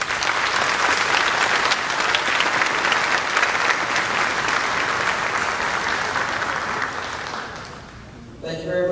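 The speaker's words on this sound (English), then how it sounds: "Let's give them all a big round of applause" Sustained applause from a large crowd at a high school senior honors assembly, loud and steady, fading toward the end before a voice begins to speak.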